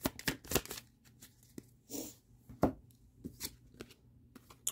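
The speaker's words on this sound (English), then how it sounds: "Let's grab one more card to clarify that Ten of Lotuses." Tarot cards are shuffled and drawn close by, a string of soft riffling flicks and sharp card snaps at an uneven pace, fairly quiet.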